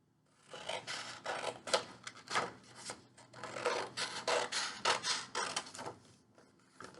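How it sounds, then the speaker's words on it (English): Scissors or a trimmer cut excess paper from the edges of a three-part card: a close, quiet run of rough rasping cuts in uneven bursts, with short pauses between strokes. "the first thing I'm going to do is trim around the bottom and the edge to get all of this excess off"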